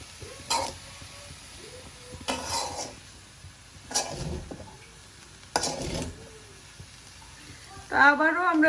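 Green chilies and bay leaves fry in a pot for Sylheti nakul biryani. The spoon scrapes and stirs in four bursts over a low, steady sizzle, and a brief voice is heard near the end.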